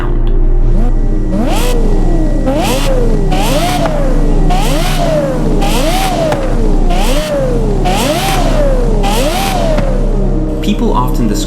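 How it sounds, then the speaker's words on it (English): The Lexus LFA's 4.8-liter V10 revs repeatedly in sharp, rising-and-falling bursts, loud and close, each throttle blip climbing quickly before dropping back, about once a second. "People often describe the LFA as having the greatest engine note ever created."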